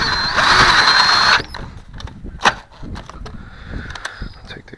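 Tightening a bolt on a Kia Optima Hybrid during a transmission fluid change, a steady power tool whir followed by a series of short clicking ratchet sounds.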